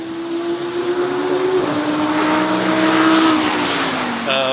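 Cars drive nearby with a steady engine hum whose pitch rises and falls. The motor noise is continuous and fairly loud, with a brief higher tone near the end.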